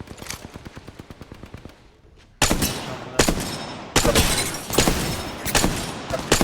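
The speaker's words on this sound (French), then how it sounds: "On tire dessus." Gunfire in the video game Apex Legends: a rapid automatic burst, a short pause, then louder, heavier volleys of shots in quick succession.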